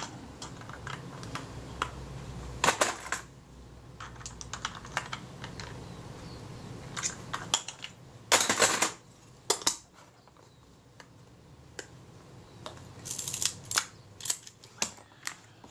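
Small metal clicks and scrapes from a retaining ring being tightened on a Kodak Retina IIa camera come in short bursts, near and fairly faint, with quiet handling noise between them.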